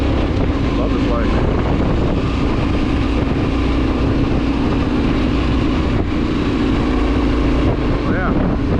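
A Yamaha Tenere 700 motorcycle rides along a trail, its engine a steady, continuous drone buried under heavy wind buffeting for the whole stretch, with no clear breaks or revving changes.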